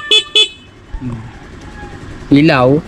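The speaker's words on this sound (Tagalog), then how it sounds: "Busina." Two short, sharp toots of a Motorstar Easyride 150CL 2024 motorcycle horn sound close by, followed by someone speaking briefly and a brief tonal flourish at the end.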